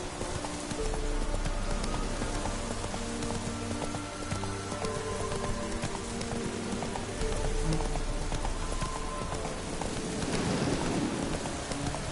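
The horse Roach gallops in The Witcher 3, a steady run of hoofbeats continuing throughout, blended with a rain-like hiss and ambient game sound at moderate, even level.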